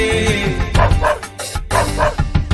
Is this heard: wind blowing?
no